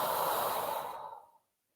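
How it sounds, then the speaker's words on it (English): A single deep belly breath drawn in, a broad airy inhale that swells and then fades out to silence after about a second and a half, close and clear with no talking. "take a nice deep breath in"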